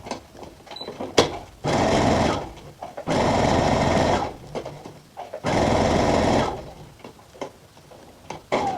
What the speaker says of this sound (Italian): A cucire.